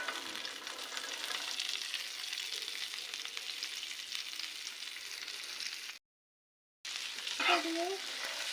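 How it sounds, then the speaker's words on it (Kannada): Corn kernels sizzle and rustle in hot oil on a tawa for popcorn, a close hiss with stirring scrapes, briefly cut to silence before resuming. "ನೋಡಿ, ನಾನು ಎಲ್ಲ ಜೋಳನ ಹಾಕ್ತಾಯಿದ್ದೀನಿ."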